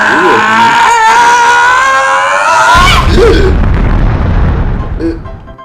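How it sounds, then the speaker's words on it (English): A cartoon bird explodes in an Angry Birds game: a sustained whistling, warbling tone gives way to a loud, close, rumbling boom that spreads into broadband noise and slowly fades. "Did Chuck just explode? I think he did."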